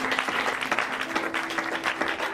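A church congregation breaks into steady applause, a dense crackle of many clapping hands heard close and continuing evenly throughout, with a faint sustained tone beneath.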